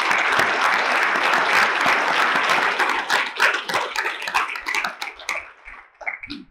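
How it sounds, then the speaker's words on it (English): Audience applause at a law ethics seminar, a dense, steady burst of clapping that gradually thins into scattered claps over several seconds. "Let's give those guys a round of applause."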